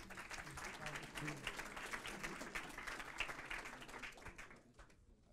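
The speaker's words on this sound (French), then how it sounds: "On les applaudit." An audience applauds a three-person team at a startup demo day, steady clapping under scattered voices that fades near the end.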